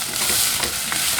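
Rice sizzles in hot oil in a pot for Mexican rice, a brief burst of dense crackling frying hiss at moderate level, without talk.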